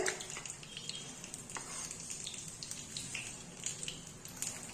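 Paniyaram batter is poured into a hot pan and sizzles in a soft, steady crackle, with faint scattered pops and light clinks throughout, fairly quiet and close.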